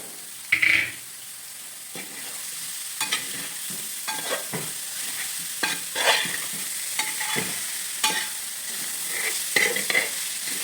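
Steady sizzling as crushed tender jackfruit fries in a pan, with repeated scraping strokes of a spatula stirring it, close and fairly loud.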